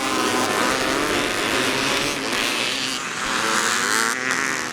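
Vintage motocross dirt bikes racing at a vintage motorcycle event, a dense continuous roar of several engines heard from a moderate distance, steady and loud throughout with no talking.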